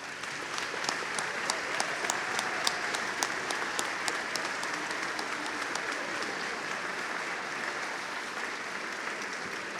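Audience at a county band concert applauds the middle school band directors, a steady wash of many hands clapping in a hall with a few sharper claps standing out, continuous throughout.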